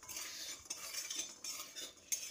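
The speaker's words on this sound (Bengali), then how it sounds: "বড়িটা এবার তেলে ভেজে নিচ্ছি।" Bori lentil dumplings fry in mustard oil while a metal spoon stirs and scrapes the pan, a continuous hiss with irregular clinks and scrapes, close and quiet, no talk.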